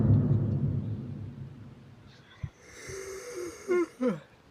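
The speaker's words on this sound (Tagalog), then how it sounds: "dahil sa hikab mo naantok na ako" A long, breathy, low yawn comes from a character in The Boiled One horror game, then fades into quieter noise and is followed by a couple of short voiced sounds.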